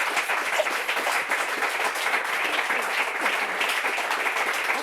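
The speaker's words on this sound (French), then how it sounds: "j'aimerais bien qu'on applaudisse en fait son ami" An audience at a church or talk-show gathering applauds steadily, a dense, even wash of many hands clapping throughout, fairly loud and without pauses.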